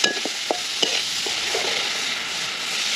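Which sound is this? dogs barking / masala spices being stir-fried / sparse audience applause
masala spices being stir-fried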